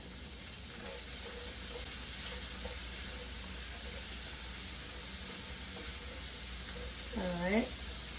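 Diced onions frying in a skillet with beef and potatoes give a steady, even sizzle throughout, with faint background voices and a brief squeaky tonal sound near the end.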